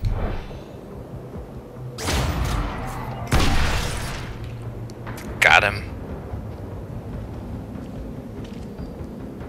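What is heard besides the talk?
explosion in the video game Chronicles of Riddick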